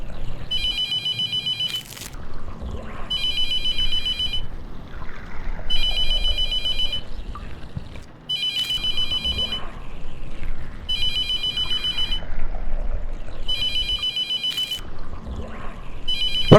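A telephone rings in a video game, loud and near, with repeated bursts of ringing separated by short gaps over a background rumble.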